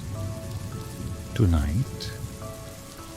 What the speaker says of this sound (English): as raindrops gently tap against your window